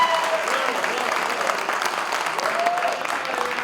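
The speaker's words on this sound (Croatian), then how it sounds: "Ajmo aplauz za Boke," Sustained audience applause at a live concert in Stara Pazova fills the whole stretch, dense and steady, with scattered shouts and a voice rising over the crowd.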